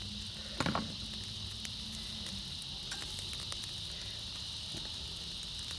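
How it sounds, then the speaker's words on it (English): Crickets chirping outdoors at night near a fire where jerk pork is grilling, a steady faint high trill with a few soft crackles and pops, no talk. "Oh boy, listen to the cricket, them out there"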